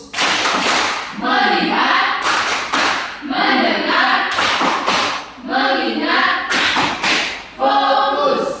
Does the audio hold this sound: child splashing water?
no